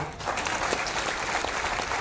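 Crowd at a political rally speech applauding, dense continuous clapping from many hands filling the space at a steady, fairly loud level throughout.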